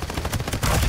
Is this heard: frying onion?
no